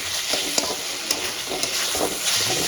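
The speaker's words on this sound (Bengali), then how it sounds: "এবার আমি নুডলসটা মিক্স করে দেবো।" Noodles being tossed and mixed with vegetables in a hot pan, a loud steady sizzle with repeated scraping stirs at an even rhythm, close by and free of speech.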